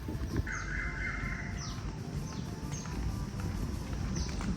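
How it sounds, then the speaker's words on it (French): Birds call repeatedly outside an apartment in Phuket, with several short, clear chirps and one longer call scattered over a constant, busy outdoor background hum. "Écoutez juste le bruit des oiseaux."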